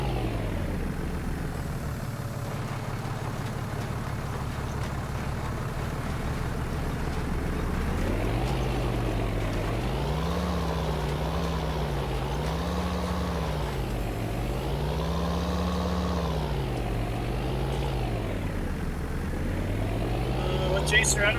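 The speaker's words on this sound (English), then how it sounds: "This is a mod tractor, so those sounds don't count." A modded tractor engine in a farming video game drones steadily, its pitch rising and falling in repeated waves as it revs, loud and continuous, with occasional talk over it.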